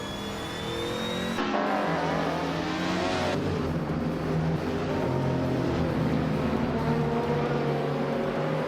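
Race cars launching off the starting line in the iRacing sim, including a 2009 Audi in the LMP 900 class: loud, close engines rev and climb through gears together, a dense sustained roar with whining tones rising and shifting.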